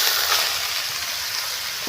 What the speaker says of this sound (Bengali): আমার তেলটা গরম হয়ে এসছে। এবার আমি থোরটা দিয়ে দেবো।